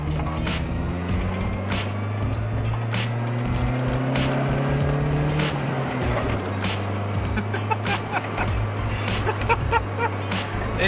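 A Mitsubishi Eclipse drives along with a steady, loud engine hum and drone from inside the cabin, broken by brief knocks and clicks, with the tone shifting partway through as the car changes pace.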